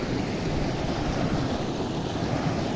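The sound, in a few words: river flowing under rocks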